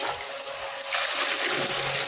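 Cold water poured into a container holding a freshly dyed shibori dupatta, a steady close splashing trickle that grows fuller and louder partway through, with no talking.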